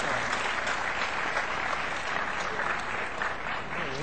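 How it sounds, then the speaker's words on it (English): A crowd at the MLG Dallas 2006 gaming tournament grand final applauds the players, steady dense clapping that stays loud and even throughout. "Let's give a round of applause to Great Rippen and Final Boss."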